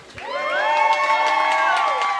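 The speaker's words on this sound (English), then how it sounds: "Make some noise for that poll one more time." Audience at a Black Poetry Slam erupting into loud cheers and whoops, many voices rising together and holding a sustained roar for about two seconds, close and dense.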